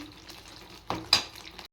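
Spoon stirring garlic thokku (poondu thokku) with added sugar in a pan, giving soft scraping strokes and a faint sizzle with two sharper clinks, up close for under two seconds.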